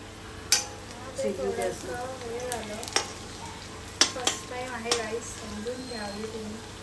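Thick-cut onions fry for chicken biryani, a soft sizzle under ongoing talk, punctuated by sharp clinks of a utensil against the pot several times.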